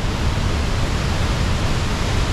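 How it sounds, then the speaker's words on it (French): A secret valley waterfall roars as a steady, dense broadband rush of falling water, loud and unbroken throughout with no voices. "La fameuse cascade secrète de Mamiala."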